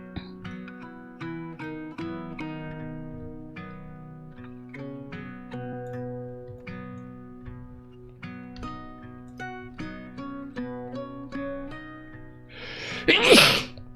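A single loud, sharp sneeze bursts out near the end, close and abrupt, after a long stretch of sustained, layered musical tones with a steady, echoing quality.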